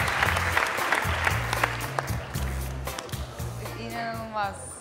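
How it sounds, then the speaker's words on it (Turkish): A television studio audience on the O Ses Türkiye singing show applauds steadily to send off contestants, a dense wash of clapping that fades slightly near the end while a voice talks over it. "Ve alkışlarla uğurluyoruz."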